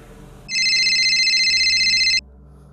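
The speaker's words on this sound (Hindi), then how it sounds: "तभी मेरे फोन की घंटी बजी।" A phone rings once, loud and close: a bright electronic trill lasting under two seconds, with faint low background sound before and after.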